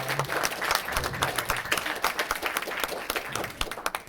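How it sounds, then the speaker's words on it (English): An audience at a stage hypnosis show at a university gives a lively round of applause, dense clapping that holds steady for several seconds. "Give them all a big round of applause"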